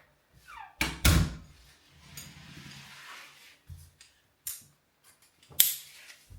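A TRX suspension strap is fitted to a home door, giving several sharp thuds and knocks as the door closes on the anchor, with quieter rustling and handling noises between the hits.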